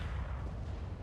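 A 75 mm tank gun fires in War Thunder, one heavy low boom rolling off into a rumbling tail, with no voice over it.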